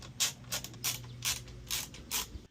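Screws being driven in during reinstallation of a 12-inch dash screen in a Ford F-150, giving five or six evenly spaced close rasping bursts with faint creaks and a steady low hum underneath.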